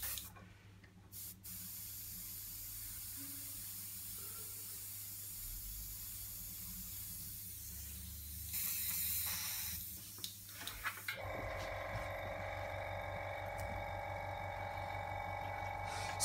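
Airbrush spraying Daler-Rowney ink, a continuous airy hiss that shifts in tone and pitch partway through, with short pauses and bursts as the spray is adjusted.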